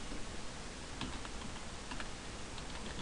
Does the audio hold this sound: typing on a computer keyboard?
yes